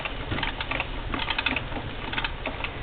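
A Singer Model 237 sewing machine turned by a Bishop hand crank gives a quiet, steady run of soft mechanical clicks and taps at close range, with no motor hum.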